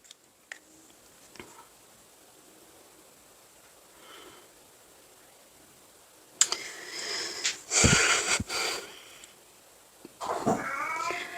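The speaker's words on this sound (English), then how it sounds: "Cats are fighting." Cats fight at night, starting with faint hisses and scattered sounds, then breaking into loud snarling yowls and screeches in a few harsh bursts close by.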